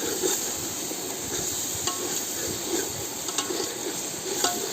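Onion frying with ginger-garlic paste, chilli and turmeric, cooked for an outdoor Konkan chicken party, gives a steady close sizzle broken by a few stirring scrapes, with no talk.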